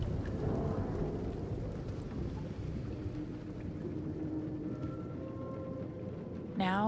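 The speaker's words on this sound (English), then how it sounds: "It's raining." Steady rain hisses and rushes throughout in a video game, with a low rumble of thunder underneath and a short rising tone near the end.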